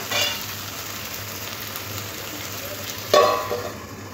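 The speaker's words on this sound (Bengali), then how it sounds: "পটলটা ভালো করে মশলার সাথে কষে নেব।" Pointed gourd is sautéed with spices in a pan over medium-low heat, with a soft continuous sizzle and two brief louder stirring scrapes near the start and end.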